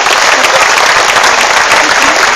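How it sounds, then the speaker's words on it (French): Loud, sustained applause from an audience at an outdoor farm gathering, dense continuous clapping close by with no break. "Alors j'aimerais véritablement qu'on les applaudisse très fort."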